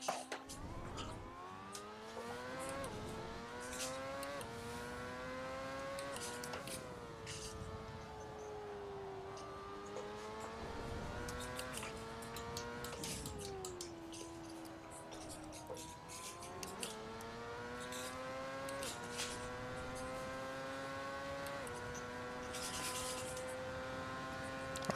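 A street-racing car in Assetto Corsa roars through the Tokyo expressway, its engine note climbing through the revs and dropping at each gear change, steady and prominent, with a player talking over it.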